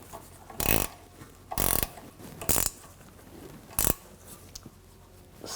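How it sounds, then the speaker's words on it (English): Four short bursts of clicking from a 15mm ratchet wrench snugging a rear sway bar link nut on a 2010-2014 Volkswagen GTI, each burst under a second and close to the microphone, with quiet gaps between. "I'm going to use a 15mm ratchet wrench."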